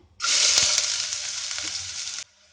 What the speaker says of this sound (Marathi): तर हांगा आमकां कांदो बरो तळसून घेवपाक जाय।